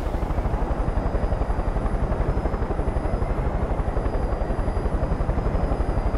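Helicopter flying in the video game Far Cry 5, a steady, fast rotor thump that stays loud and continuous throughout, with a faint high engine whine above it.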